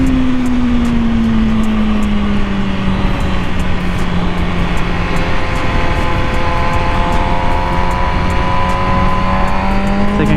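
A 2020 MV Agusta Brutale 1000RR engine drones loudly and steadily throughout, its pitch easing down then climbing again as the throttle opens, with rushing wind noise riding over the engine.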